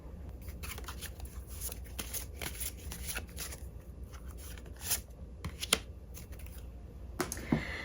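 Tarot cards being shuffled by hand close by, quiet repeated riffling and slapping flicks with small pauses between, no voices.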